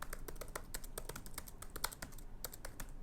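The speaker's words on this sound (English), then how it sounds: "Typing out The Great Gatsby." Keys clatter in quick, uneven runs on a computer keyboard as someone types out a novel's text, with steady clicks close by and no voices.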